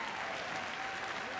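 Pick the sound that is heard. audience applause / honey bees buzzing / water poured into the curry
audience applause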